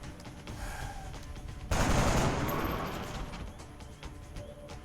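Gunfire in XCOM: Enemy Unknown erupts as a sudden loud burst of automatic shots partway through, decaying into a lingering rumble after quieter game ambience.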